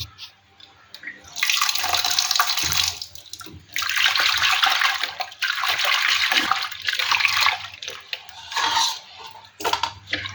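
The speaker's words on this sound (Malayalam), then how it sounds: "ശകലം വിനാഗിരിയിലൂടെ ഒന്ന് തളച്ച് കഴുകാൻ പോവുകയാണ്." Tap water gushes in several loud bursts as sardines are rinsed with vinegar and handled, with dripping and light clinks in the pauses.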